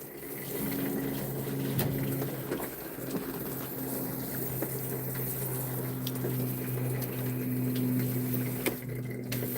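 Cactus plants in a greenhouse are being watered, with a steady rush of running water and pump-like hiss holding constant, a low hum beneath and occasional light knocks and taps.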